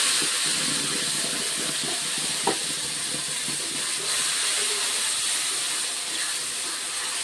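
Ground cumin and mixed spices fry in hot oil for a pointed gourd and potato curry, giving a steady, close broadband hiss throughout with a single brief knock partway through.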